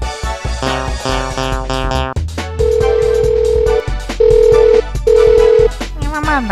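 A busy burst of music gives way to a phone ringing tone, long steady beeps repeating with no one picking up.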